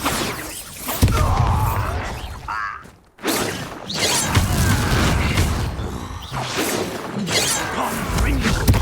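Bombarda explosion spell blasts in Hogwarts Legacy combat, loud booming impacts with crashing debris, a dense, sustained barrage that dips briefly before surging again, with battle noise throughout.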